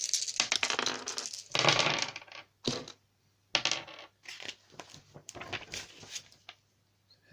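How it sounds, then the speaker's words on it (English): Eight dice are rolled for a tabletop miniatures wargame, making a clattering rattle in several bursts with brief pauses, some loud and close and others fainter as the dice settle. "So I'll roll 8 dice."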